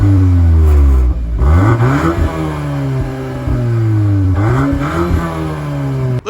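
A VW Golf R hot hatch with a quad-tip exhaust revving hard, the engine note rising and falling through several loud, close sweeps with a brief dip between pulls.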